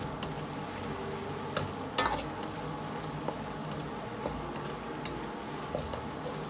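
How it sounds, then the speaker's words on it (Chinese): Spicy chili sauce sizzles steadily in a hot wok while being stir-fried for braised duck, with a soft continuous frying hiss and occasional light clicks of the spatula. "炒出香味，炒出颜色。"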